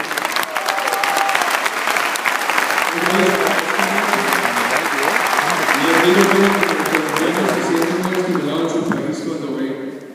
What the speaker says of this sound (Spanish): le queremos dar un fuerte aplauso